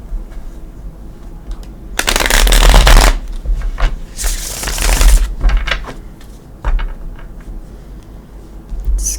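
Gilded Tarot cards shuffled by hand in two loud, dense bursts of riffling and fluttering, followed by lighter taps and shuffles of the deck, with no talking.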